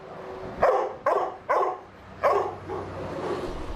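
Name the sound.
dogs barking in shelter kennels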